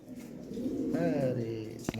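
Lahore and racing pigeons coo in a loft, a soft rolling coo rising midway through close by, under a low background murmur and a brief knock near the end.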